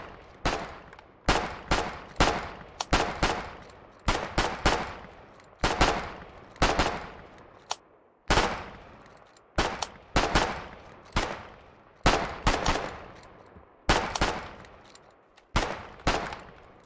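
Enemy gunfire in the war game Foxhole crackles in sharp, irregular bursts of several shots each, loud and close, repeating steadily with short gaps and no talking over it.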